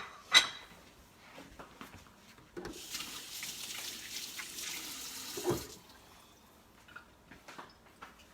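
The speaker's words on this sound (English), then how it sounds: "Let me wash my hands." A kitchen tap runs for a few seconds while someone washes their hands before cooking pepper soup, a soft steady rush of water with small clicks and splashes before and after, fairly quiet.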